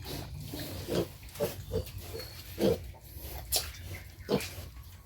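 Young piglets on a pig farm let out a series of short grunts and squeals, close by and irregular, with a few louder squeaks rising over a low background rumble.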